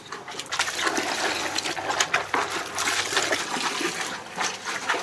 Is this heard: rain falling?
no